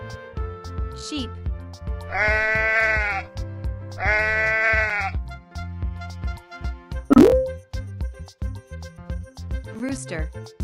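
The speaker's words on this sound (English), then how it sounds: "Sheep." A sheep gives two long, loud wavering bleats in quick succession, set against a steady musical backdrop with a few sharper sounds following.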